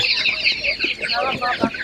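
Chicks of Spanish and Master Gray breeds peep and cheep in a busy, high-pitched chorus at an outdoor animal market, with clucking fowl nearby and voices talking underneath.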